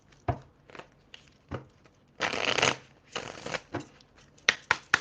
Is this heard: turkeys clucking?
no